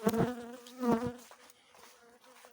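Honey bees buzz steadily around an apiary hive after losing their queen, a dense droning hum that swells loudest in the first second and again briefly, then settles to a fainter, continuous murmur.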